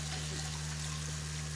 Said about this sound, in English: I want to pour some more water over the rocks to really rinse them good.